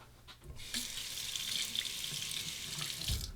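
A bathroom tap runs steadily into a sink while a Muhle R41 Twist safety razor is rinsed, a close, soft and continuous stream of water lasting a few seconds.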